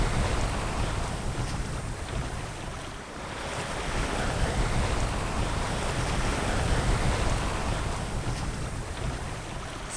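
A sailboat running offshore on a broad reach in about 15 knots of wind, with a steady loud rush of wind and water washing along the hull and no voices.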